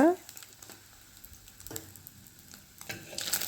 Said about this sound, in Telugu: కొద్దిగా ఆయిల్ పసుపు వేసుకొని ఎగ్స్ వేయించుకుని తీసి పక్కన పెట్టుకోవాలి